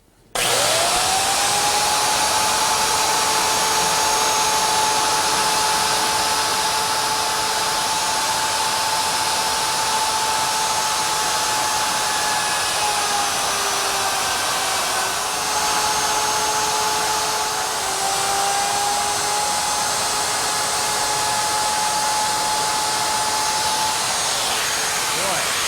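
A handheld router carves numbers into a wooden sign, a loud, continuous high whine close by that holds steady for the whole stretch with slight dips in pitch as it cuts.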